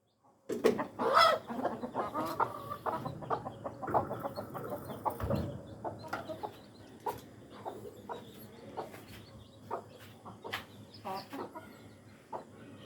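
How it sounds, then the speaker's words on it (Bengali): A rooster and hens cluck and squawk close by in a busy run of calls that thins into sparser clucks, with no talk. "মোরগটা তাড়াই দাও বাবা, ওই যে মোরগটা তাড়াই দাও।"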